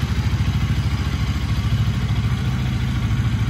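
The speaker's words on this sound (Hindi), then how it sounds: "सो कोल्ड स्टार्ट देते हैं" A new motorcycle, freshly washed, idles after a cold start with a steady pulsing thump and light mechanical clatter, loud and close, with no talking.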